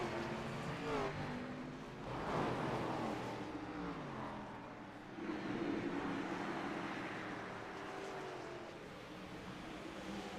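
Race cars roar around the oval at New Smyrna Speedway under a green flag, a dense, continuous engine drone with swelling passes and shifting pitch, loud and steady with no voices.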